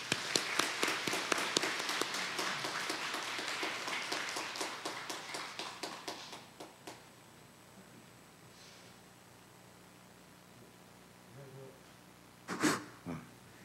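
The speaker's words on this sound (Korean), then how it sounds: "우리 박수로 맞아주시기 바랍니다" A church congregation applauds to welcome speakers to the front: dense, steady clapping for about six seconds that then stops, leaving a quiet room with a few faint rustles and taps.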